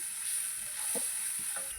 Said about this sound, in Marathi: आता फोडणीला आपल्याला तेल सुटेपर्यंत परतून घ्यायचे